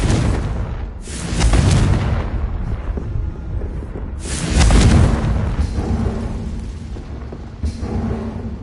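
Confringo spell blasts in the video game Hogwarts Legacy: loud, deep booming explosions, two big blasts a few seconds apart and a smaller third, each rumbling off into a fading roar.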